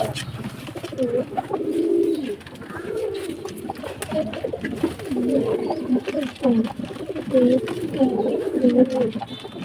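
A sick pigeon coos again and again in low, throaty, rolling bursts, close by and fairly loud, continuing throughout.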